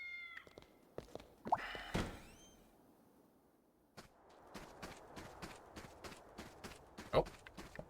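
A cat meows in the video game Fantasian, a short rising call early on, mixed with soft thunks and light footstep-like taps across the scene.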